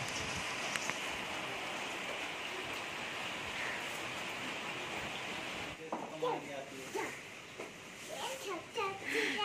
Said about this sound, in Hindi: इतनी ज़्यादा बरसात हो रही थी, बहुत भयंकर वाली, तो आप लोग एंजॉय कीजिए इसको।